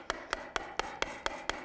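Hammer striking a chisel to take progressive cuts out of wood, a steady series of seven sharp, evenly spaced close knocks with no talk.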